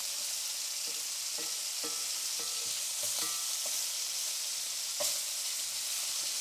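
Scallops sear in a pan of butter with a steady, dense sizzle, broken by a few soft clicks and taps as they are turned. The frying runs alone throughout, with no voices.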